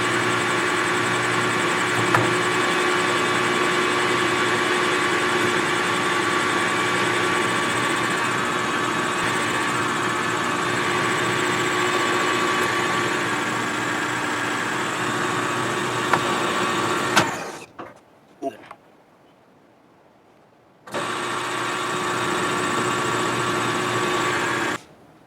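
A metal lathe runs steadily through a single point threading pass, a constant close motor hum and machining whine that winds down, goes nearly silent, then resumes at the same pitch.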